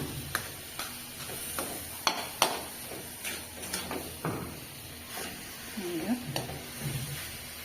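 Leafy greens (shak) sizzle in a pan in a village kitchen. A utensil scrapes and taps the pan in irregular strokes over steady frying hiss, with faint talk in the background.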